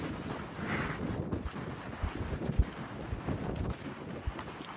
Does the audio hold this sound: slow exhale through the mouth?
no